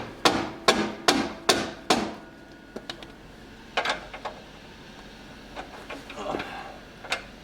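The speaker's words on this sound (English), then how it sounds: "This is where the hammer comes into play." Hammer blows while fitting a Steeda G-Trac bar on an S550 Ford Mustang: a quick run of five sharp metallic strikes, then scattered lighter taps and knocks, close by in a quiet garage.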